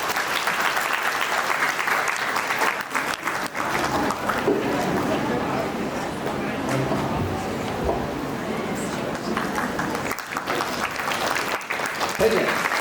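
Guests at a Chothani family get-together in Gujarat applauding as a woman is honoured, steady enthusiastic clapping sustained for over ten seconds, with brief dips and murmured voices underneath.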